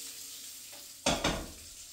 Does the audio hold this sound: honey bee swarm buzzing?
no